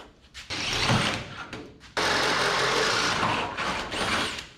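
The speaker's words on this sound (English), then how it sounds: "We'll drill those 1/2-inch holes now up through there" A power drill boring half-inch holes up through a truck cab chassis during a 1963 International Harvester Loadstar frame swap, loud whining bursts close by with a brief pause between runs, no talk.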